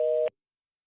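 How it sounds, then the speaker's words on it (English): A voicemail beep, one clean steady electronic tone of about a quarter second that cuts off abruptly and leaves silence after it. "Please leave a message at the beep."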